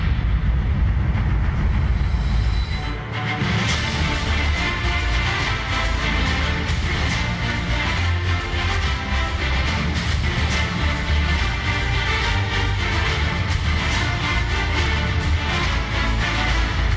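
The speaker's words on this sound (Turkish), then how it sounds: "Trenimiz ileriye doğru devam ediyor." Turkey's first domestic electric train, a five-car set, runs steadily along the rails with a continuous loud rumble and rail clatter. A brief dip near the start gives way to a sustained, dense roll with no talking.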